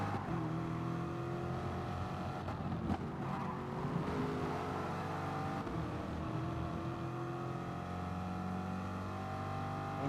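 Corvette race car engines drone steadily in a racing video game, a continuous loud engine note with shifting pitch as the cars drive close together, without any speech.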